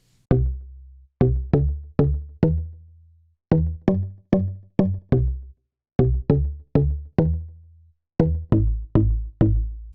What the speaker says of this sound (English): Bass Wood is one of my favorite basses in the pack